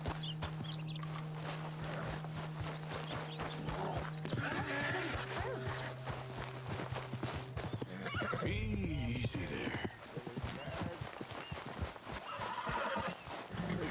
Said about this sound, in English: you couldn't help me get my other horse back from over there